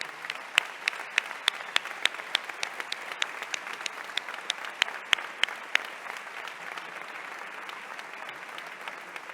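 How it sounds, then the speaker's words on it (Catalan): A concert audience at the Casino Musical in Godella applauds the performers and choir, steady moderate clapping with sharp individual claps standing out throughout. "Així que pregue un fort aplaudiment per a tots ells."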